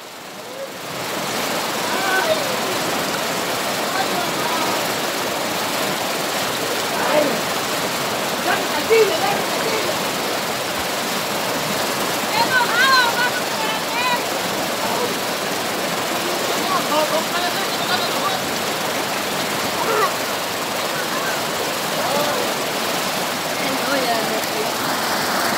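A strong water current rushes in a continuous, loud, broadband roar that stays steady throughout, with faint voices now and then underneath.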